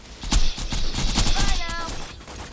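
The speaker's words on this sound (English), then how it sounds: "Watch out for these turrets." Turret gunfire in the Borderlands game, a rapid burst of shots mixed with other loud combat effects and a faint voice, over about two and a half seconds.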